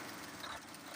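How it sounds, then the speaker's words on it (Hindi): A Mercedes-Benz Actros truck engine runs steadily after a crank sensor wiring fault is fixed, a continuous broadband idling rumble with no talk over it. "ट्रक स्टार्ट है।"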